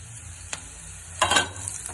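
Cumin, curry leaves, garlic and onion frying in oil over a low flame, heard as a soft steady sizzle with a brief burst of stirring or scraping near the middle.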